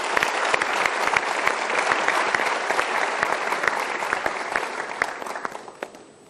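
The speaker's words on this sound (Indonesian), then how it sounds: "Mari kita berikan tepuk tangan untuk Pak Kapolres." Sustained audience applause at an Indonesian televised talk show. Dense, steady clapping with individual claps popping out, fading slightly toward the end.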